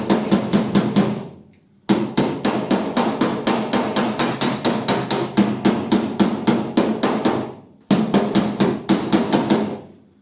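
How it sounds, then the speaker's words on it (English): Rapid, steady hammer strikes in quick bursts, loud and close, with two short pauses between runs of blows. "Use that little hammer."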